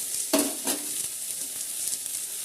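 A homemade snack sizzles steadily in a pan just after being turned over, with two sharp clatters of the utensil near the start over continuous close frying hiss.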